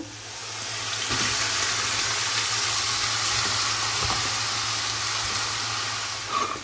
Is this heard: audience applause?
no